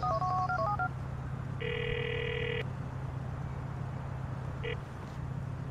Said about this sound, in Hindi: भाई को फोन करता हूँ